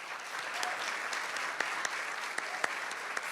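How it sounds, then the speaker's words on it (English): At an annual awards dinner, the audience breaks into another round of applause, a fairly quiet but steady patter of many hands, with a few sharper individual claps standing out. "let's do one more round of applause for Mrs. Jane Cafritz,"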